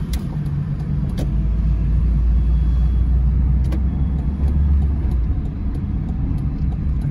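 Steady road rumble from inside a car cruising through Itajaí along the Beira Rio, a constant low engine and tire drone with faint ticks, no talking.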